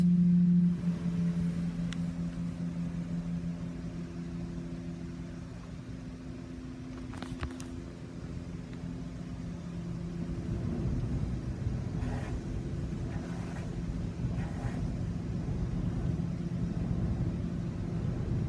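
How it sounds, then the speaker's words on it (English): An Istobal MNEX 22 automatic car wash at an Ultramar Choice station in Stouffville runs its high-power rinse, a steady hiss of spraying water with a machine hum, heard from inside the car. "Now we are getting the high power rinse."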